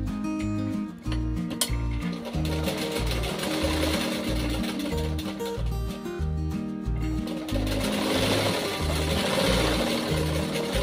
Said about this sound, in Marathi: त्याच्यावरती पण दाब शिलाई देऊया।